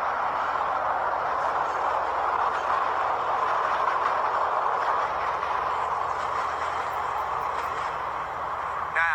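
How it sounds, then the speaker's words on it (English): A train passes by nearby, a steady loud rumble and rolling wheel noise that holds for several seconds with no break. "hold on, this train going by."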